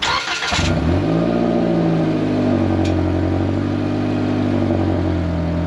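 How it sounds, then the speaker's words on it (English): A 2022 Toyota Corolla SE Apex Edition with manual transmission and non-standard exhaust revs up with a deep, throaty exhaust rumble, then settles into a steady, loud idle that holds to the end. "we've got a nice throaty exhaust"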